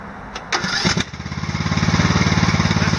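An Ariens 42-inch 17.5 HP six-speed riding lawn mower engine turns over after a couple of sharp clunks, then settles into a steady, close, pulsing idle that holds loud and even to the end.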